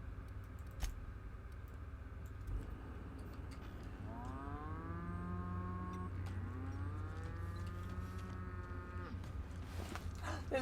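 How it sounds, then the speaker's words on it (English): Cow in The Outer Worlds video game letting out two long drawn moos in a row, loud and tonal over a steady low game-ambience hum, with a brief click or two around it. "There's a cow!"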